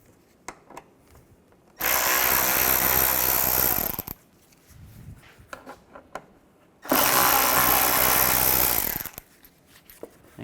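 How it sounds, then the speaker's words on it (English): A power driver with a T25 Torx bit backs screws out of a 2007-2013 Mini Cooper front bumper, giving two loud, steady whirring bursts of about two seconds each, separated by quiet handling clicks. "Take these screws out. You're going to use a T25 Torx bit."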